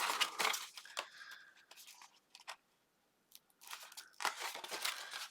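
Scored cardstock being folded over and creased by hand while assembling a Doodlebug Design pet-themed scrapbook album, giving crisp rustling, crackling paper bursts with a short pause in the middle, close and fairly quiet.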